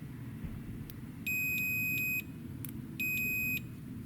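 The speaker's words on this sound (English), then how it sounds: "if I put it this way, it will make a beep noise" Two steady high-pitched electronic beeps, each about a second long, separated by a short pause, over a low background rumble.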